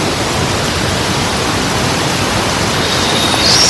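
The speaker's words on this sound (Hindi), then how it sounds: "इतनी बारिश हो रही है भाई, बहुत भयंकर बरसात होने लगी।" Heavy monsoon rain pours in a dense, steady, loud hiss that fills everything, with no breaks and no voices over it.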